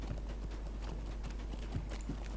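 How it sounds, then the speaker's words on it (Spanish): Horse hooves clip-clopping in the online game Lord of the Rings Online, a quick, regular trot of sharp knocks, close and clear over a low steady hum. "Este se ha montado en el caballo."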